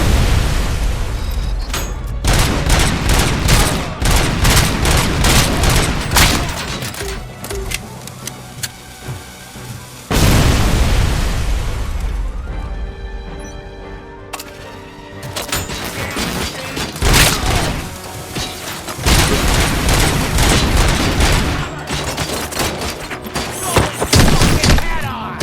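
Grenade blast and bursts of gunfire in the Robocop Rogue City video game, loud and dense, with repeated booming explosions and rattling shots filling most of the stretch, broken by brief lulls.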